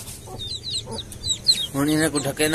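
Chickens cluck close by, several birds making short throaty calls and a longer squawking run toward the end, while someone talks over them at a rural village home.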